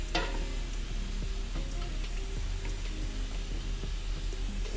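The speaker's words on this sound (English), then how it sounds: "While our sauce is frying" Steady sizzling of sauce frying in a pan, a continuous crackling hiss with occasional soft pops and a faint low hum underneath.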